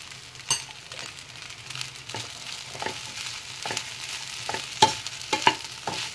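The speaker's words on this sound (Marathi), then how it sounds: "परत ते संपूर्ण हलवून घ्यायचं।" Sabudana khichdi being stirred in a pan, a soft steady sizzle broken by repeated light scraping taps of the spoon, close and fairly quiet, with no talking.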